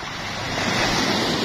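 Steady rushing surf with a rolling, gravelly wash, loud and continuous, as waves churn pebbles along a pebble beach shore in Mercedes, Camarines Norte.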